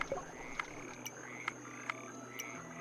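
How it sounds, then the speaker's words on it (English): A cartoonish frog croaks in the video game DemonCrawl, a few short pitched croaks spaced about half a second apart over a steady electronic music bed, clear and moderately loud. "The frog is what killed him."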